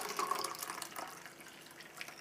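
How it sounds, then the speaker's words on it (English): Hot water poured onto a tea bag in a cup makes a steady, close liquid trickle that fades slightly toward the end. "just happen to have some more hot water. And it goes."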